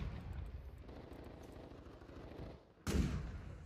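Video game gunfire in Call of Duty Plunder mode, heard as a quiet stream of rapid shots followed by one louder, closer blast near the end.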